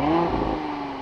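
A 2021 Audi SQ5 sport exhaust revving, heard from outside the car, a brief loud engine blip whose growl drops off within a second.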